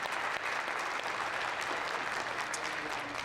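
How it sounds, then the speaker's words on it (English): A crowd at a federal election candidates' debate applauds, a continuous, even wash of clapping throughout. "a round of applause for all your candidates in Sydney-Glace Bay here"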